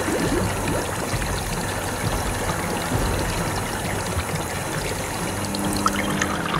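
Water from a Lego Technic water pump pours and trickles steadily down a toy water slide into a pool, a continuous close splashing stream with no talking.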